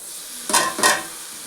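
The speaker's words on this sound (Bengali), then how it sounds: "এবার একটু হালকা করে ভেজে নেব" Gobindobhog rice grains with turmeric, cumin, coriander and Kashmiri chilli powder frying lightly in a pan: two quick stirring bursts crackle and hiss over a soft background sizzle.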